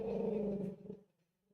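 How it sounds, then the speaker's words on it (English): A pet dog in the Roblox game Adopt Me gives a loud, drawn-out howl lasting about a second, then fades to a faint tail. "Is that Nacho howling?"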